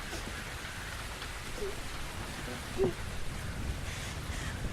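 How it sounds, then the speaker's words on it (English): Steady rainfall from the video game The Invisible Hours, a soft even hiss of drops on surfaces, with a brief faint cry partway through. "Could I persuade you to come out of the rain, Flora?"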